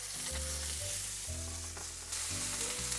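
Salmon fillet and roasted lemon wedges sizzling steadily in a hot pan, a close, continuous frying crackle with a low background hum, no voices.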